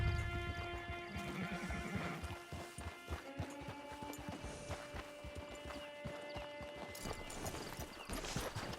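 Horse hooves clip-clop in a steady, quick rhythm on the ground in Red Dead Redemption 2, fairly close, under a sustained musical drone with no talking.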